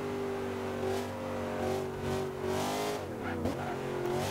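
A Camaro Z/28 with a small supercharger drifts in the Forza Horizon 2 racing game at a harbor, its engine holding a loud, sustained rev with a brief dip and climb in pitch as the tires slide.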